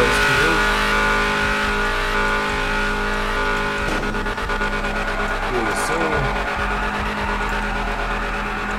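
Car engine revving hard with tires spinning in a GTA 5 drag race, the modded 707 HP SRT Trackhawk roaring loud and continuous with bursts of wheelspin, a voice talking over it.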